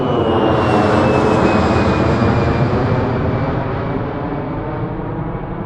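A jet aircraft at Ronald Reagan Washington National Airport roars loudly nearby, its falling whine gliding down in pitch as the broad engine noise slowly fades.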